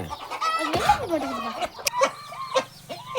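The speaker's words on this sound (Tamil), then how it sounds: "அந்த கோழியை தூக்கி கீழே விட்டுருப்பா." A hen on a small farm kept with goats and cows clucks loudly and close by in several uneven bursts, with a drawn-out squawk at the start.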